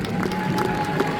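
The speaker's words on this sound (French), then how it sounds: "on peut avoir un tonnerre d'applaudissements pour l'ensemble des personnes" Crowd at a cosplay contest prize ceremony applauding the participants, a dense roar of clapping mixed with cheering and murmuring voices, moderately loud and close, with a steady tone underneath.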